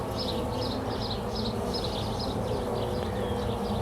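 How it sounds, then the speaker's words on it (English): Dense, continuous buzzing of honeybees in an opened top-bar hive during an inspection, close and steady with a pulsing higher drone weaving over a low hum, no voices. "without squishing a bunch of bees"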